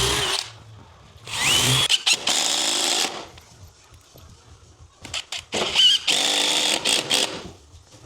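A power drill driving screws into wooden window trim, with several short whirring bursts separated by pauses, loud and close, with no talk.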